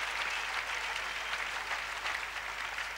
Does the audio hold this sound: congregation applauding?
yes